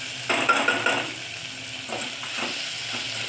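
Ginger paste fries in a pan, a close steady sizzle with a quick burst of spatula scraping and clinks against the metal at the start, then softer stirring.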